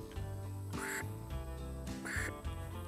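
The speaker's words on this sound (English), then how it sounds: "And it's all the fluctuation of the pressure you put through the call to make it sound like a real duck working a call." A mallard duck call blown for a basic quack gives two loud, close, nasal quacks about a second apart, each a reedy buzzing note that bends in pitch, with no talking.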